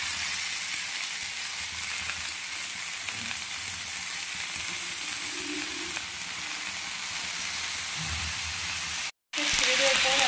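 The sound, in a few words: greens added to frying eggplant, garlic, salt and turmeric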